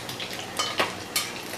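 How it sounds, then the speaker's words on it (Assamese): Pieces of wallago fish fry in a little mustard oil under a lid, giving a steady close sizzle broken by a few sharp clinks and pops from the covered pan. "আৰু মই ঢাকনি লগাই ভাজিছোঁ।"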